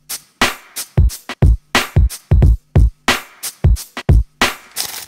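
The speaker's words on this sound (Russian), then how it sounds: "даже джингл, который я для этого видоса написал, там драмка звучит вот так" A loose, off-grid lo-fi drum groove of booming kicks and crunchy snare hits in a jingle, over a faint sustained hum, with a gritty texture.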